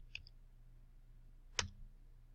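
A single sharp computer mouse click while working in CAD software, quiet and close against a low steady hum, preceded by a fainter tick.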